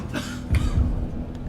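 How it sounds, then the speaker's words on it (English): A couple of short, low coughs close by, quick and muffled, over a quiet background, from a contestant on a live TV quiz show. "he was strategically coughing at pivotal moments during the show."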